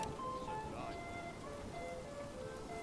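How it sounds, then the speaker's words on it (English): Steady rain falls in the medieval village-building game Manor Lords, a continuous soft hiss of drops across the whole stretch with faint tonal game ambience on top. "the rain is starting to come down"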